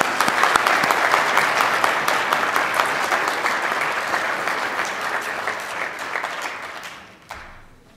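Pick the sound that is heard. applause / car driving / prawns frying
applause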